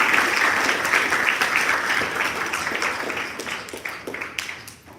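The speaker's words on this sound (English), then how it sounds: "Please give them a good round of applause" An audience at a temple gathering claps in a full round of applause that starts strong and gradually thins, ending in a few scattered claps as it fades.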